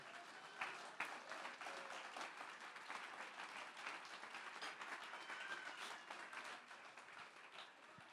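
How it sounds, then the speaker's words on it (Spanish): Congregation applause during a Spanish-language church sermon, a fairly quiet, steady wash of clapping lasting throughout and heard from a distance without clear talk over it. "Dele ese aplauso porque esto es verdad."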